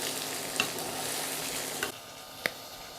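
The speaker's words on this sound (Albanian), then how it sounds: "Sa më mirë të skuqen patlıxhanët, aq më e shijshme bëhet receta. Kështu që ne do i skuqim mirë." Eggplants fry in an oil-filled pan, a steady crackling sizzle broken by a few sharp scrapes as the pieces are stirred and turned, the hiss dropping away a little near the end.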